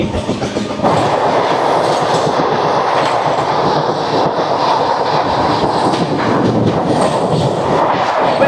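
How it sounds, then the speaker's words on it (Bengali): A passenger train pulls out of Kesinga station, its wheels clacking steadily over the rail joints in a loud, continuous rumble heard from on board, with no talking. "কেসিঙ্গা স্টেশন ছেড়ে আমাদের ট্রেন বেরোচ্ছে"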